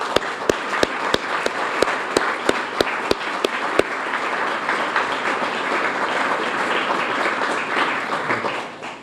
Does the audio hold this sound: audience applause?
yes